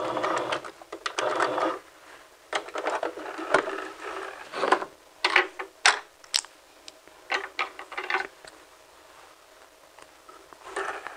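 Sewing machine back stitching a dress seam in short irregular bursts of quick needle chatter separated by brief pauses, fairly close and moderately loud, no voices.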